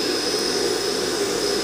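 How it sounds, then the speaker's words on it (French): An iRobot Roomba base auto-empties the robot vacuum's bin with a loud, steady, close roar of suction, continuous and unbroken throughout. "Il va vider le sac. Auto-vidage,"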